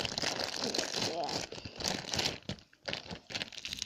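Crunchy bead slime is poked and squished up close, giving dense crackling and crinkling textures under continuous talking.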